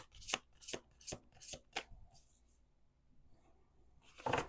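A deck of playing cards riffled in a few quick bursts, close and fairly soft, each burst a short crisp flutter, then fading into near quiet before one last brief riffle.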